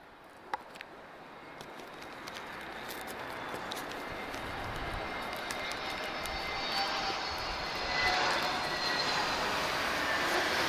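An Azores Airlines Airbus A321neo's engines roar at Lisbon Airport, a broad rushing drone heard from a distance that slowly builds in loudness over about ten seconds.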